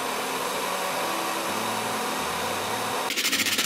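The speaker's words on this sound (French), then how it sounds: "Allumez le sèche-cheveux et dirigez le flux d'air dans la canette centrale." A hair dryer blows into an aluminium can with a steady, loud broadband whoosh and a low motor hum; near the end the airflow starts fluttering rhythmically.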